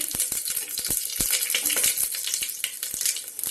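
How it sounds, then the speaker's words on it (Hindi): Cumin seeds and a bay leaf sizzle steadily in hot oil over a low flame, a close, continuous crackle broken by small sharp pops and light clicks. "ये देखिए कि तेल गरम हो चुका है। इसमें हम जीरा डाल देंगे, इसमें हम ये तेज पत्ता भी डाल देंगे।"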